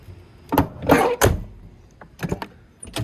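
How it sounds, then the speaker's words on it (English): A 1984 Volvo 240 car door, in need of grease, creaks open and shuts with a couple of short thuds and rattles, close by, with no talking. "That door could use some grease."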